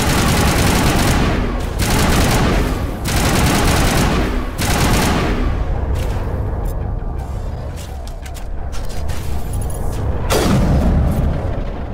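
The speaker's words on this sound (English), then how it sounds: "Cómo revienta el rifle con la pequeña mejora que le pusimos" In the Mass Effect game, an upgraded rifle fires in dense rapid bursts, loud booming volleys separated by brief pauses, with a last heavy burst near the end.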